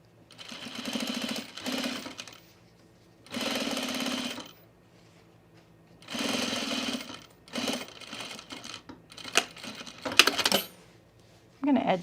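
A sewing machine edge stitches a waxed-fabric men's utility jacket in several bursts of rapid mechanical whirring, separated by short pauses, with a voice briefly speaking near the end.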